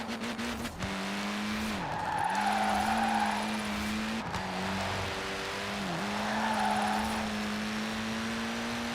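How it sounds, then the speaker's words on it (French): A car drifts with tires squealing in two long sweeping skids over a steady engine drone, heard close and loud with no talking. "J'ai tenté de faire du drift."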